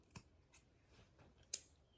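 Scissors snip the small fabric dog ears off a sawtooth star quilt block: a few sparse, quiet cuts close by, the last one crisper and sharper, with no talk.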